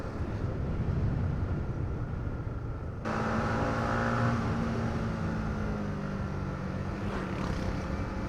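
A motorcycle drones past nearby, rising sharply in pitch and then holding a whining tone as it moves off.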